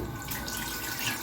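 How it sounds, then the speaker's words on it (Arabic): Hot water pours steadily onto a removable grill plate being washed, a brief continuous splashing rush at moderate level. "هنجيب ميه سخنه"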